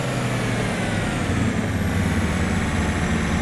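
A tractor in Farming Simulator 22 drives with a steady, loud, low engine drone and no break in the sound.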